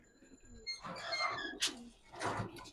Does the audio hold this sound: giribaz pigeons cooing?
yes